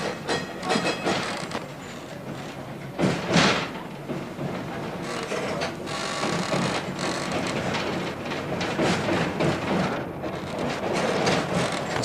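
A 1985 Seattle waterfront trolley tram running, with a steady rumble and repeated clunks and rattles of the car rolling along the rails, continuous and fairly loud throughout with no talk.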